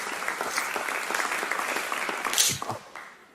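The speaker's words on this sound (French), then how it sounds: "Est-ce qu'on peut encore acclamer" A church congregation claps together in a steady, dense wash of applause that swells briefly near the end and then fades, with no voices rising above it.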